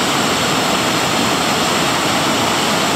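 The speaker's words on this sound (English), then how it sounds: "It's been many, many years since we've seen the water, the Blackstone, flowing over here." The Blackstone River runs fast over a trail flooded after Tropical Storm Elsa, a dense, steady roar of rushing water that fills the whole clip, close and loud, with no pauses.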